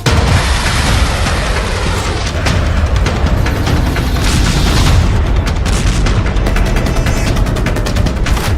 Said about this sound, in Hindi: जूनियर खामनेई ने खुर्रम शहर के धमाकों के ऑर्डर दे दिए हैं।